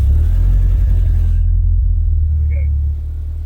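Engine converted from carburettor to individual throttle bodies running steadily at idle, a loud close low rumble with a faint whine that fades, the idle dropping slightly near the end.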